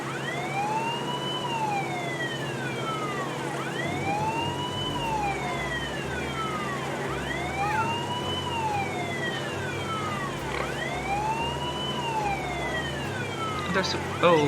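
Police car sirens in the video game Tropico 6, a repeating rising-and-falling wail sweeping steadily over a low game music bed, loud and continuous.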